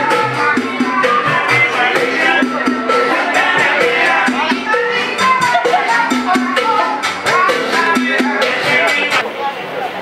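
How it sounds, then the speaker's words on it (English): A busy crowd outside La Bodeguita del Medio bar in Old Havana chatters loudly and continuously over lively music, a dense close-up wash of voices and instruments. "There's always a crowd around here."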